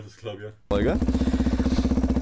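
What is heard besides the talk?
loud motorcycle exhaust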